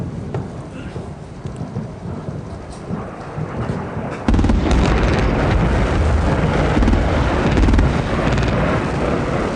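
Heavy bombing of Baghdad heard from a distance as a sustained, rumbling roar of explosions that swells suddenly partway through and stays loud and dense, with no talking.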